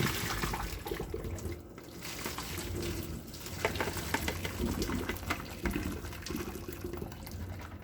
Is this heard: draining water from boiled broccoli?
yes